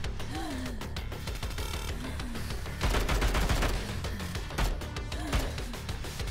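Gunfire in the dystopian roguelite FPS Bunker Punks, a steady stream of quick shots running almost continuously at moderate volume, with a heavier, louder stretch in the middle and no speech.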